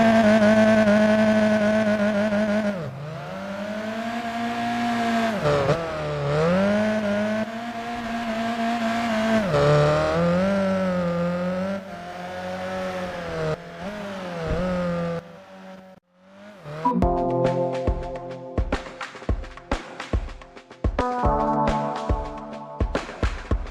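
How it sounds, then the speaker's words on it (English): A car power sliding in the video game Gran Turismo PSP: a loud sustained engine drone with shifting pitch and tire noise, then choppy stuttering revs toward the end. "enter the car into a power slide with the throttle"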